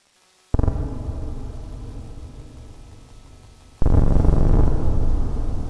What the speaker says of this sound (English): you can hear the 8-bit noise